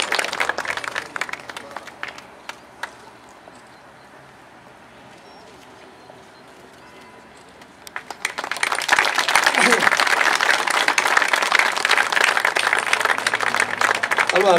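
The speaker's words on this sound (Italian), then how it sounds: "Quindi un applauso a Viviana Cesaretti" Applause and clapping from an outdoor crowd at a Mille Miglia classic car event bend in Antrodoco, loud at first, easing to a quieter lull, then swelling again and holding strong to the end.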